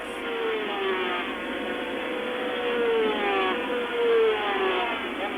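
500cc Grand Prix racing motorcycles at the 1987 San Marino Grand Prix scream past in a steady, high-pitched engine whine that rises and falls slightly in pitch, loud and continuous throughout.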